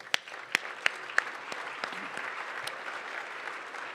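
Audience applause at a downtown Denver leadership presentation: a few sharp nearby claps open into a sustained, even wash of clapping from a large room that carries on steadily.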